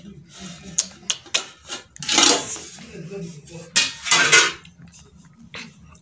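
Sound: serving cooked rice onto a plate

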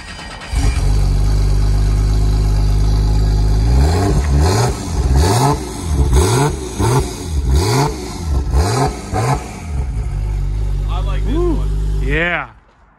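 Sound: tuned car engine revving with titanium Super Turbo exhaust

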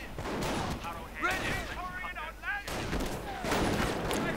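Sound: gunfire from panzer grenadiers in a war video game

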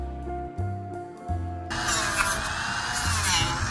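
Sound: Dremel rotary tool grinding out damaged core foam of hydrofoil board

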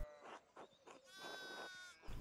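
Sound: sheep bleating in the video game Pentiment

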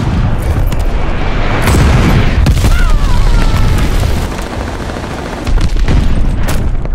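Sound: glide bomb explosion in Call of Duty Vanguard video game

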